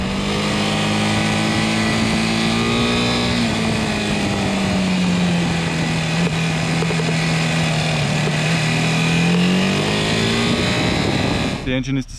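A 2020 KTM 390 Adventure single-cylinder engine, shared with the 390 Duke, holds a loud steady drone whose pitch dips and rises as the revs change, continuous for about twelve seconds before a brief rustle at the end.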